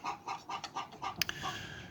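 A broody hen kept apart in a small pen clucks in a steady series of soft, evenly spaced calls, close and moderately loud, with a couple of sharper higher notes near the end.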